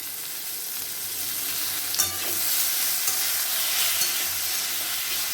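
Fish curry ingredients fry in a pan with turmeric and salt, a continuous bright sizzle with a couple of brief clinks of a spoon, close and even in level.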